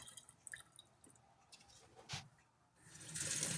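Water trickles and drips while a wet stone grinder is rinsed after grinding adai dosa batter, soft splashes building into a steadier running stream toward the end.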